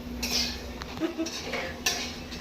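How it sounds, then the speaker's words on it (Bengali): Pots and utensils clink and scrape during home cooking of chicken, a few light metallic knocks and stirring scrapes at moderate distance over a low kitchen hum. "আর আমি রান্না করছি এখানে চিকেন।"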